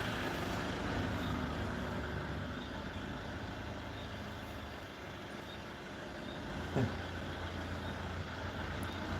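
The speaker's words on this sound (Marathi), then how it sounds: "गाडी आली बघा आता" A bus pulls in with a low, rumbling engine drone amid roadway noise, heard from a moderate distance, with a short hiss of air brakes midway.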